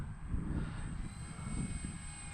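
A small FMS PA-18 Super Cub RC model airplane engine drones steadily overhead, a continuous buzzing whine with gentle rises and falls in volume.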